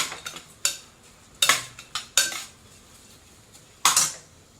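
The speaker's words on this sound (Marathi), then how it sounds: "आता आपण हे जे धुवून घेतलेले तांदूळ आहेत हे घालूया आणि हेही आपण अर्धा मिनिट फक्त या मसाल्यात परतून घेऊया." Washed rice stirred and sautéed in masala in a pan for masale bhaat, with sharp metallic scrapes and clinks of a spoon against the pan in irregular bursts, close and without speech.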